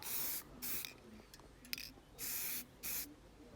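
Aerosol or spray gun applying a coat of paint to Land Rover parts during a restoration: four separate hissing bursts, each about half a second, with quiet gaps between them, fairly close.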